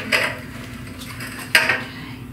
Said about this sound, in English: Let me move this over and get my muffin tin out.